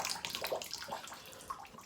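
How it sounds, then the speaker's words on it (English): Tap water runs into a bathtub, a soft, close splashing trickle with small bubbling bursts, fairly quiet and continuous over a couple of seconds. "I'm going to turn off the water, and I filled the tub about this much"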